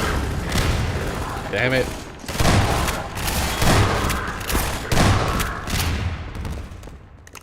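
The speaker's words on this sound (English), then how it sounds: "They immediately started shooting the barrel." Rapid bursts of gunfire in Half-Life 2 as soldiers shoot at a barrel, loud cracks and booms clustered with brief pauses, and a voice speaking briefly over the shooting.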